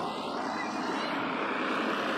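Tractors passing on a main road give a steady, loud engine rumble and drone that fills the whole stretch without a break.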